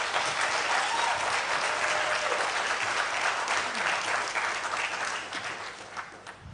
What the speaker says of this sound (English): Can we once again give them a round of applause?